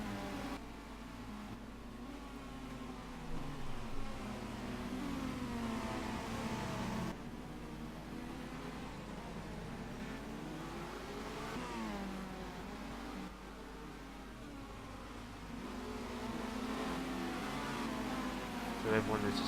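Racing cars from a BTCC 2014 video game at London roll onto the grid, a steady mid-pitched engine drone with shifting revs throughout, under ongoing voices.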